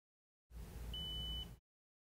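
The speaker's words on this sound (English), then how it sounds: "Press and hold a channel preset button until a beep sounds." A Mazda5 car radio's channel preset button gives one short, faint electronic beep, heard alone against a quiet background.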